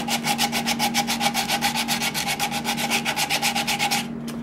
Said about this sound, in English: there's the bowl sanded to 1500 grit